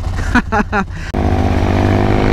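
A Ducati Monster 1100 motorcycle runs with a loud, steady, droning engine note while being ridden, briefly masked early on by a nearby voice speaking over it.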